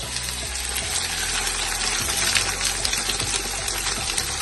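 Eggs added to carrot and onion frying in a pan for kothu dosa, a loud steady sizzle with faint scraping, close and without talk.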